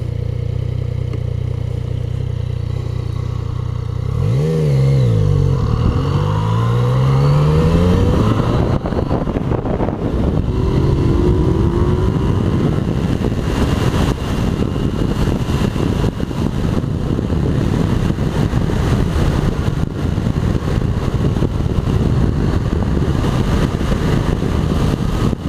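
A Yamaha MT-09 Tracer motorcycle engine rises in pitch through a sweeping acceleration, then settles into a steady loud drone with wind rush and road clatter.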